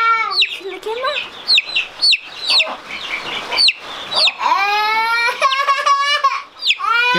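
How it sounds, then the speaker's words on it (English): Chickens cluck and squawk close by in a lively, overlapping chorus, with sharp bursts and descending calls repeating throughout and no talk over them. "The great thing about chickens is that you can feed them chicken food"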